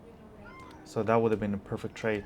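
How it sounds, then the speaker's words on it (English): A house cat meows faintly near the start, then someone talks over it at close range. "That's my cat."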